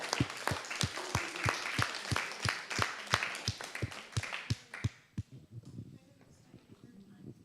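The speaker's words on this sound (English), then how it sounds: "Round of applause for this crew" Clapping from a small group thanking a crew at the close of a meeting on police alternatives and diversion, sharp regular claps for about five seconds before fading into faint room noise and murmuring voices.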